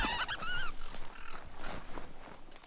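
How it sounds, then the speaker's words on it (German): Honking, goose-like calls from a bird creature in Biomutant, a quick cluster of loud nasal squawks followed by softer scattered calls, close and unaccompanied by talk. "Vogel."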